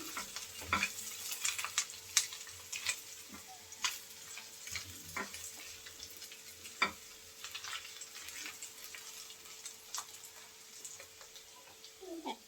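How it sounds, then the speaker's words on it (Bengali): Prawns frying with onions in a pan give a steady, faint sizzle, with light scraping and stirring clicks scattered throughout, close up and with no voices. "পেঁয়াজের সাথে চিংড়ি মাছটা ভালো করে ভেজে নিয়েছি"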